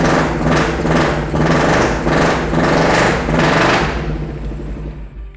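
A Kawasaki Ninja 250cc engine fitted to a custom chopper revs indoors in several rhythmic rising pulses, loud and close, then drops away to a quieter idle near the end.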